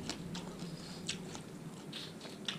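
Close crunching bites and chewing of crispy stir-fried shrimp heads, a quick series of crisp crackles over soft mouth noise, with no speech.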